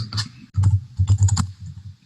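Quick, close bursts of clicking keys on a computer keyboard, a few rapid keystrokes clustered together over a couple of seconds.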